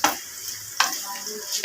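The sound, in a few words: meat browning and sizzling in a kadai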